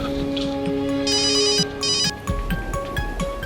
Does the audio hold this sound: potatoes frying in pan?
no